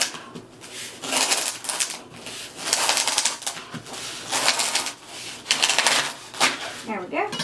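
Scissors or cutters snip repeatedly through artificial sunflower stems for a pineapple wreath, a series of close, crisp crunching cuts in irregular bursts with brief pauses between them.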